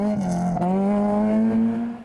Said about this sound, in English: Very, very quick in this Ford, and he's going all out to make up the time he lost in the previous stage to Christoph Snijders.